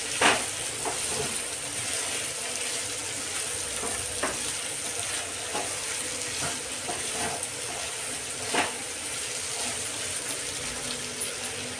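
Bitter gourd pieces fry in a pan and are stirred after salt is added, giving a steady close sizzle with a few scraping stir sounds.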